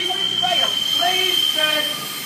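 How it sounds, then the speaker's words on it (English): A Pacer diesel multiple unit pulls out of Lincoln Central station, its wheels squealing and grinding loudly on the track for a couple of seconds. "142009, this is gonna hurt!"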